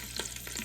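Sardines frying in melted bacon grease in a pan, a steady close sizzle and crackle, with soft stirring scrapes over it.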